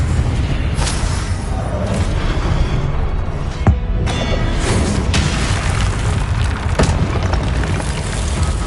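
The Confringo fire spell explodes in Hogwarts Legacy, a loud sustained booming roar with a few sharper blasts cutting through.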